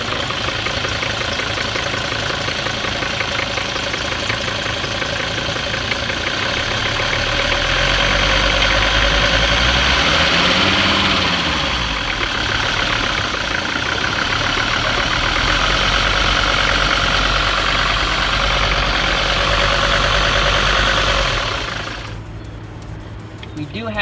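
A 1977 Mercedes-Benz diesel engine idles with a steady, loud, knocking clatter that swells briefly as if revved slightly, then drops off near the end.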